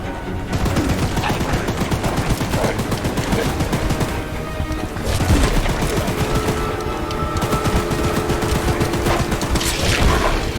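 A machine gun fires in rapid, unbroken bursts in the video game Choo Choo Charles. The shots are loud and close and are mixed with booming game effects.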